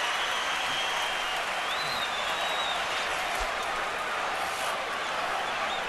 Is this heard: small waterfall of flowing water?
no